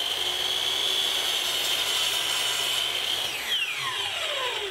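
A saw cross-cuts a wooden board into four-inch arms for a guitar hanger, a loud continuous whining cut with a high tone that drops in pitch near the end as the blade slows.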